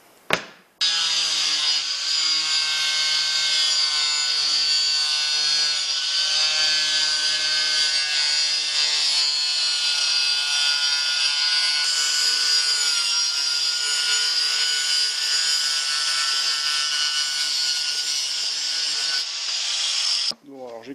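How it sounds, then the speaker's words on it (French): Resin-laminated cardboard edges are ground with a power tool, giving a loud, continuous high-pitched whining grind that lasts about twenty seconds and stops abruptly near the end. "J'ai coupé, j'ai meulé tous les bords."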